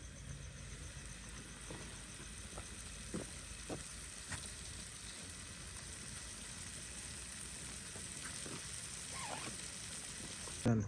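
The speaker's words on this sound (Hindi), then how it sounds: "तवे के ऊपर हमारी जो हमने पैटी बनाई है उसको रखेंगे" Beef burger patty frying on a hot tawa griddle, giving a steady, faint hiss and sizzle throughout with occasional soft taps and crackles, no talking.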